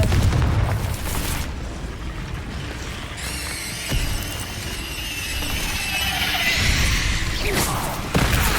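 Confringo blasting spell in the Hogwarts Legacy video game, a loud rumbling boom with crackling debris and a rising magical whoosh, followed by further bursts of game effects.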